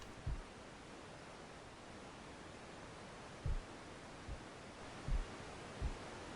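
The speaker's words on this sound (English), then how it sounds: "Can you hear it? White noise" Faint, steady broadband hiss of white noise runs throughout, broken by a few soft, low thumps scattered through the stretch.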